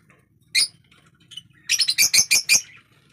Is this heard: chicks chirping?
yes